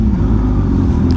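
A Dodge Hellcat car engine revving at a car meet, a loud, deep, continuous rumble heard very close for a brief moment.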